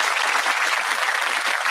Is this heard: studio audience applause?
yes